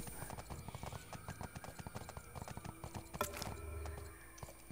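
Horse hooves clip-clopping in the Bless Unleashed video game, a steady run of close, even hoofbeats with a brief whinny near the end over a faint game backdrop.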